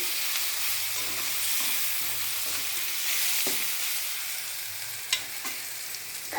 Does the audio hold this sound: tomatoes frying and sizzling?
yes